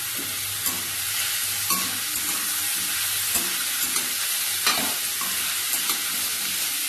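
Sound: frying cauliflower stalk chochhori with turmeric and salt

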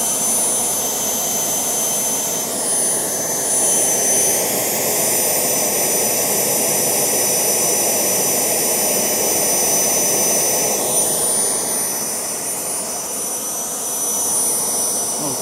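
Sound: Kamps DIY jet engine running on kerosene

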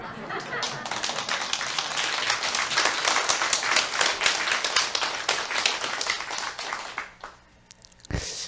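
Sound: sparse audience applause

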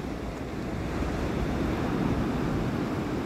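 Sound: ocean waves at the beach

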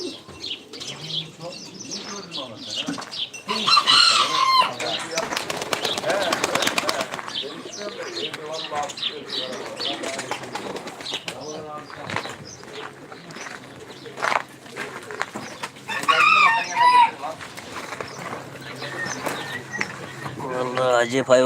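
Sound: pigeons and poultry cooing, clucking and flapping

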